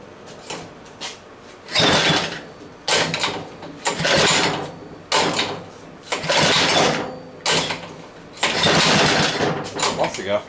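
A speedway mini bike engine being cold started with the choke on, heard as repeated bursts of cranking and sputtering roughly every second or two, close and loud, with someone talking between attempts.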